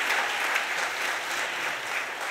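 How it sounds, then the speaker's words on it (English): A large audience of new students at a university welcome event bursts into sustained applause, a dense, even wash of many hands clapping throughout with no voices over it. "You can applaud for that."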